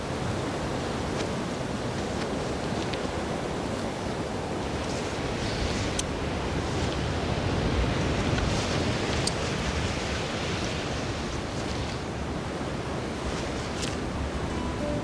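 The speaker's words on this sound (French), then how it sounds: "le groupe fait face à une mer dont les vagues viennent heurter les rochers" Sea waves below a cliff at Jobourg break against coastal rocks in a constant, loud roar of surf, dense and unbroken, with wind buffeting throughout and no voices.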